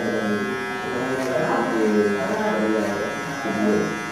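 Electric hair clipper buzzing during a clipper-over-comb haircut, a steady close hum that rises and falls slightly as it moves through the hair.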